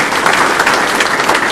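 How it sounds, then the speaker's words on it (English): A conference audience applauds panelists in a short, full, loud patter of many hands, steady and unbroken, with no talking over it. "So give them a round of applause."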